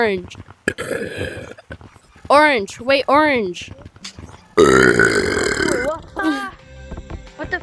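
A person burps loudly into someone's face, long rasping belches breaking up close between bursts of casual talk and laughter.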